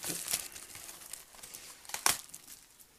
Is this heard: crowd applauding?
no